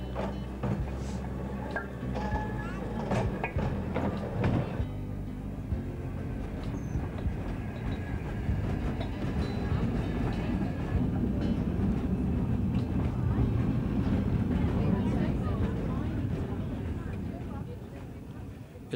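Cable-hauled car of the Great Orme Tramway, a 3 ft 6 in gauge line climbing from Church Walks to the summit at 679 feet, rumbling and clanking steadily throughout at moderate loudness, with a brief louder jolt early on.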